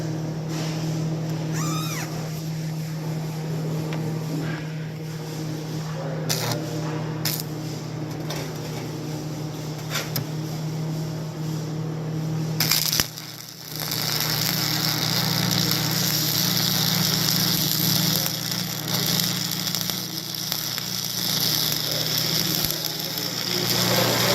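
A stick welding arc lays a bead with a steady, loud crackling hiss that runs throughout, briefly dropping out near the middle before resuming at full strength.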